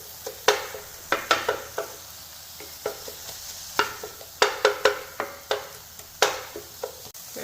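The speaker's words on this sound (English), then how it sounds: "let's go in here with a half of a small onion, chopped, and let's stir everything around." Ground beef and chopped onion stirred in a frying pan, a low steady sizzle punctuated by frequent sharp scrapes and clacks of the utensil against the pan, close and rhythmic, with no voices.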